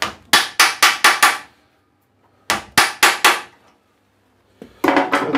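An impact driver, struck by hand, loosens old, stuck table-insert screws on an Altendorf panel saw: rapid bursts of sharp metallic blows, five or six at a time, separated by short silences, close and loud.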